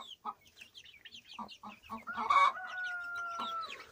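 Chickens cluck and peep close by while a large young rooster joins in with a short, strained crowing call midway, all in a quiet farmyard with no talking.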